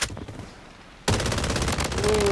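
Rapid automatic gunfire from a shooter video game loadout test, a quiet opening with a single shot before a sustained burst of fast, evenly spaced shots that runs to the end.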